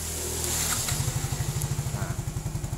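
A Yamaha fuel-injected scooter, started by jumpering the stator relay, sputters into life and settles into a close, rapid, even putter of engine pulses.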